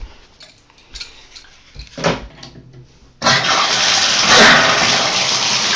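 Water gushes from a Moen bathtub faucet just after a cartridge replacement, starting abruptly partway through as a loud, steady rush that continues to the end, following a few quieter bumps and handling sounds.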